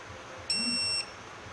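A Snap-on digital torque wrench gives a single short electronic beep of about half a second, high and tonal, close by in a quiet setting.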